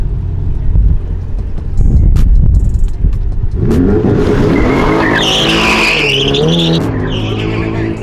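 A C8 Corvette and a Ferrari 488 Pista launch in a street race, engines roaring loudly with tires squealing and revs climbing through gear changes, while someone speaks briefly at the start.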